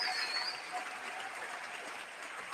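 Sustained audience applause at a celebration of Assata Shakur's life, following a musical performance; a dense, even wash of clapping holds steady throughout with no voices.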